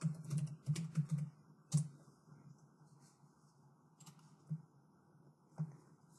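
A password tapped out on a computer keyboard, a quick burst of light clicks followed by sparser keystrokes, faint and close over a low background hum.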